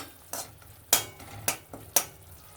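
A spoon stirs a thickening sweet syrup in a pan, making four distinct scraping strokes at roughly even half-second intervals, close and fairly soft with quiet cooking noise between strokes.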